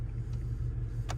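A car drives along with a low, steady rumble of engine and road heard from close by, brief and unbroken, with no talking.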